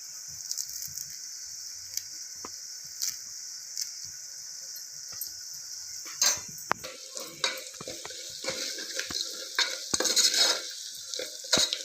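Garlic paste and onions fry in a pan with a steady bright sizzle, joined midway by repeated scraping and clinking as a utensil stirs the pan, close and alone.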